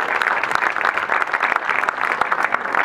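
An outdoor crowd at a sundial inauguration in Aiello claps steadily, dense close applause lasting the full few seconds.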